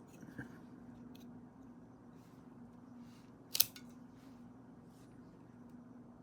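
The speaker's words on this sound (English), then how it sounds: "Now we're going to cut a little bit off of this tip." A small tip is trimmed with one quick, crisp snip near the middle, standing out against a low steady room hum with no talking.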